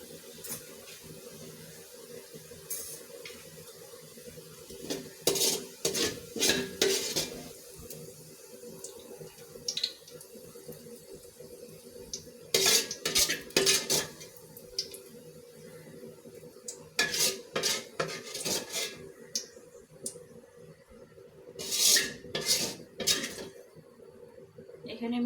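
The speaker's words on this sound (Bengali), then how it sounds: "এখানে আমি পেঁয়াজ ভাজনাটা উঠিয়ে নিলাম।" Fried onions scraped and scooped from a pan onto a plate for chicken with white pilaf, heard as scattered clinks and scrapes of utensil on metal and dish in bursts, over a steady low background hum.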